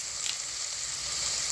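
Coriander, mint and meal maker frying in oil, a steady soft hiss of sizzling heard up close with no other sounds.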